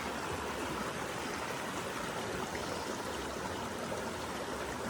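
The Pemigewasset River flows steadily along the Appalachian Trail near the AMC huts, a constant broadband rush of moving water from start to end, with no voices.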